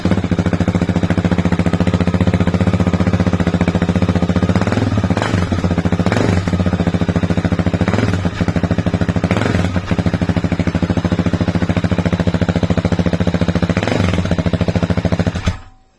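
A KTM 690 single-cylinder motorcycle fitted with a Dominator R exhaust runs loud and close, a rapid, harsh, steady thumping with occasional blips, cutting off at the end.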